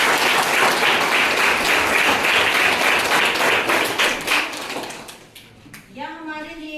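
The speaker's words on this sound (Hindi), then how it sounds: "तो एक बार सर के लिए जोरदार तालियां" Loud, sustained applause from a school audience at a community event honouring a guest, dense clapping that thins out and fades before a voice begins to speak near the end.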